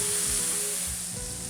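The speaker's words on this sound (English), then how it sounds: "The sound of sizzling mushrooms in a pan is called the applause." Steady, bright sizzling of mushrooms frying in a pan, a continuous crackly hiss with no voices.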